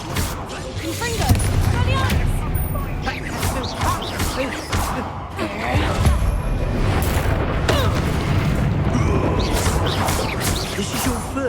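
Confringo spell explosions in Hogwarts Legacy boom and crash continuously, a loud, dense barrage of blasts and impacts with a voice speaking over the combat.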